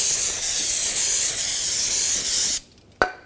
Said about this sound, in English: Brake parts cleaner